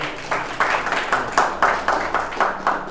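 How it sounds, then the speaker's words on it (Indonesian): An audience at a gathering claps together in a steady, regular rhythm of sharp bursts, moderately loud and without talk. "Master Taufik Ibrahim, tepuk tangan buat beliau ya"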